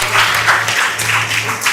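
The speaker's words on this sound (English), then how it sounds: "Give yourself a big round of applause." Applause from the audience at a career guidance program, steady dense clapping sustained for a couple of seconds at fairly close range, with no talk over it.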